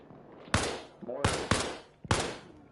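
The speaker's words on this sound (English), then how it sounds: "Hey, mortar's incoming, mortar's incoming" Incoming mortar shells striking in the Arma Reforger military game, four sharp loud blasts in quick uneven succession, with no talk over them.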